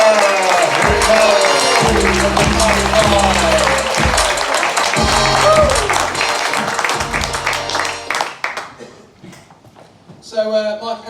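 A comedy club audience at The Attic applauds a comedian, dense clapping running under loud music and a voice before fading to near quiet near the end.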